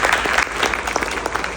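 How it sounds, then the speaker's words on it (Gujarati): A seated meeting audience claps in a dense, continuous burst of applause, loud and close, with no talking over it. "તમારા માટે એકવાર જોરદાર તાળી થઈ જાય"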